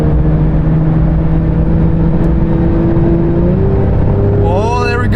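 A loud 2022 Porsche 911 GT3 engine with active exhaust holds a steady drone, then its pitch climbs as the revs rise toward the end, with a voice speaking briefly over it.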